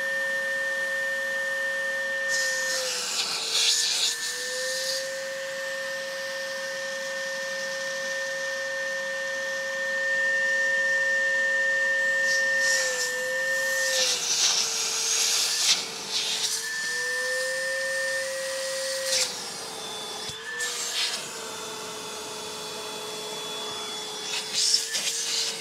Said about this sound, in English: I'm sucking out that front radiator.